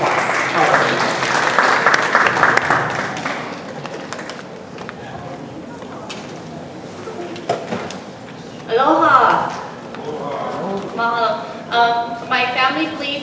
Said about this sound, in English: So Sally, let's welcome Sally with a round of applause.